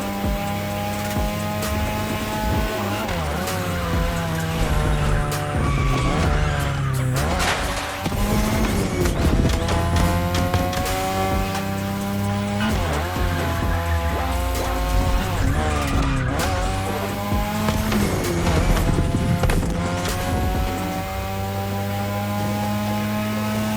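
Race car tyres squeal and skid almost without pause in The Crew Motorfest, layered over loud, steady engine roar with rising and falling revs, as if drifting through a winding touge road, and no one speaks.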